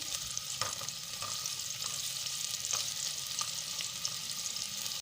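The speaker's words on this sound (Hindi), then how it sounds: "सबसे पहले हम इसमें डालेंगे गाजर और इसको कुक करेंगे हल्का सा" Carrots sizzle and crackle steadily in hot oil in a pan, a dense close frying hiss with faint scraping stirs scattered throughout and no voices.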